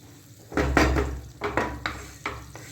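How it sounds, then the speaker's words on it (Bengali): Marinated chicken is slowly stir-fried over low heat in a kadai with no water added: a few distinct spatula scrapes and knocks against the pan, fairly close, over a faint background of frying. "এইবার পুরোটা ম্যারিনেট করা মাংসটা আমি কড়ার মধ্যে দিয়ে দিয়েছি।"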